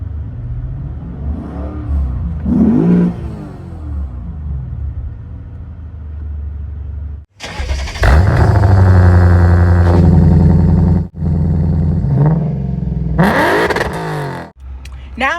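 A modified Lexus IS F sedan's engine rumbles at idle, rises and falls through a couple of blips, then is revved hard in loud sustained surges close by, with a brief cut and a final burst.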